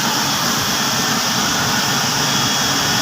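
Cooling tower motors run steadily, a loud, unbroken broadband roar like a big fan or blower that holds level for the whole stretch with no breaks.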